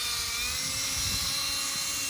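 A power drill fitted with a buffing wheel from a Meguiar's Heavy Duty Headlight Restoration Kit polishes a car headlight, producing a steady high-pitched motor whine that holds constant and loud throughout, with no speech.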